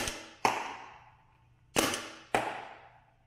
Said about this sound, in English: I'm just standing and shooting.